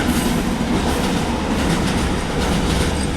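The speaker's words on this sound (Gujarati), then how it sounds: "પછી તો વહી ગઈ ટ્રેન" A train rumbles steadily past a closed railway level crossing near Liliya, loud and close, with a continuous rolling roar and faint rhythmic clatter of wheels on track.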